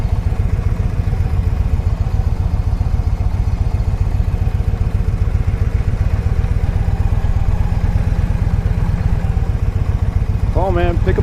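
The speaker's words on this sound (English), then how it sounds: "Motorcycles." Motorcycle engines rumble close by with a steady, throbbing idle and low mechanical clatter, continuous and loud from start to finish.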